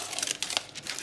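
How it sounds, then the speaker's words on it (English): Butter paper crinkling as it is pressed into a cake tin for an oven-free chocolate cake, a quick burst of papery crackles close by with no talk. "and place the butter paper"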